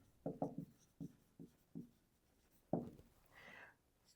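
A pen writes on paper during a fraction math problem, with a run of short scratchy strokes close up and a brief lighter rub near the end, quiet and without speech.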